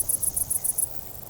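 Crickets chirp in a quick regular burst of about seven high, bright pulses, close and clear over a quiet background, then stop.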